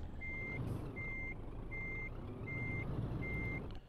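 Reversing alarm on a truck in Euro Truck Simulator 2 with an oversize load, five evenly spaced steady beeps over a low idling engine rumble.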